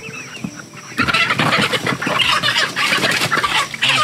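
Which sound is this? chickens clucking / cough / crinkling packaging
chickens clucking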